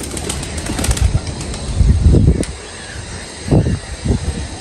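A homing pigeon flying in to land, with a few short bursts of flapping wings over a steady outdoor background hum, the loudest flurry in the middle and two quicker flaps near the end.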